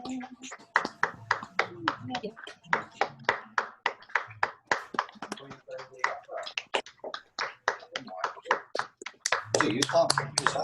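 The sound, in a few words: group applause over video call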